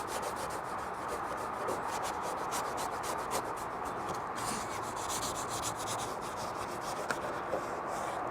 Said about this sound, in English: Never underestimate the power of the scrubby pad.